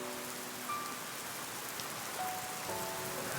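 Rain falls steadily in a K-drama scene, a soft, even hiss of drops hitting the ground with no voices.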